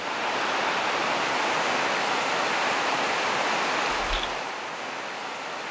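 Rivers rush through mountain rice terraces, making a loud, unbroken roar of flowing water that fills the scene without any voices.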